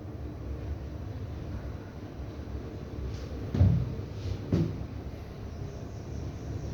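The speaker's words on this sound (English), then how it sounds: "Doors closing." Doors close at Harrison's Cave in Barbados with two dull thuds a second apart, set against a steady mechanical hum.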